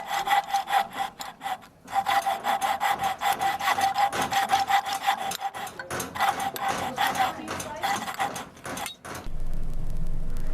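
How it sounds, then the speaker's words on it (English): Coping saw cutting through wood, a near, steady back-and-forth rasp of rhythmic strokes that pauses briefly around the two-second mark and fades out near the end. "The coping saw is for cutting tight turns with a handsaw."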